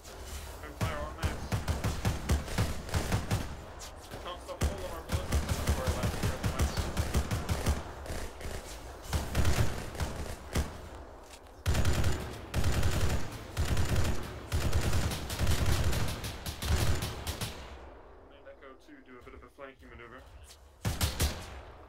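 Sustained automatic gunfire and rifle shots rattle through a Halo-themed ArmA 3 combined-arms battle, loud and near, in dense overlapping bursts that thin out toward the end, with voices heard among the shooting.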